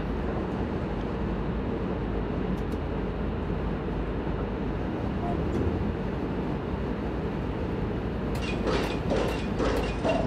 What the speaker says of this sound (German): aber laut immer die Güterzüge